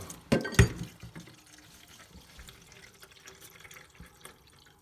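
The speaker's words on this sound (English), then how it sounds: "Never had that much water come out before." A sudden splashing gush of water up close from a removed toilet shutoff valve, quickly tapering off into quieter trickling and dripping.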